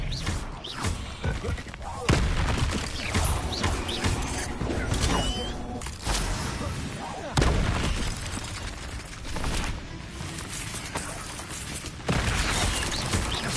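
Confringo and Incendio spell blasts go off in Hogwarts Legacy on PS5, a busy string of sharp thuds, bursts and creaking impacts repeating every second or two over a dense, moderately quiet game mix.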